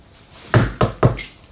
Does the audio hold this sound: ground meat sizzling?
no